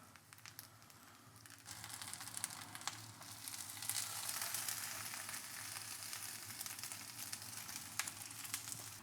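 A vegan omelette sizzling in a frying pan, a soft, steady hiss with light crackles that swells slightly after the opening seconds and stays quiet and close, with no one talking.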